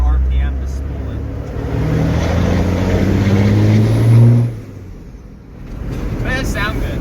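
A Cummins diesel truck engine with a newly installed turbo revs up with a rising rumble and whine, holds high, then drops back to idle; faint voices are heard near the end.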